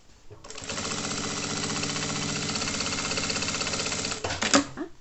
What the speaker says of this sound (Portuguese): Vamos fazer a costura aqui.